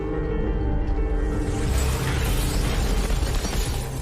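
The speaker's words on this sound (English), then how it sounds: "one of them would be the glass exploding from the hail towers" Glass blowing out in a practical special effect for hail towers on a film set, a loud sustained burst of shattering and rushing debris that fills the whole stretch without pause.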